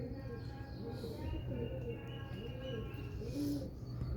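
Champion pigeons on a rooftop give soft, repeated low cooing calls close by, with rolling, throaty phrases over faint background chatter.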